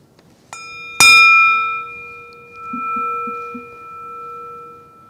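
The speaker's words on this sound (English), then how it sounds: "we always start with ringing this bell" Single struck bell opening a gathering, a faint tap and then one loud strike whose clear ringing tone lingers and slowly fades, with a few soft low sounds while it decays.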